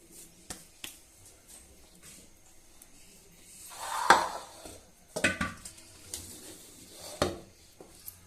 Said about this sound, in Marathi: एका भांड्यामध्ये आपण काढून ठेवूया.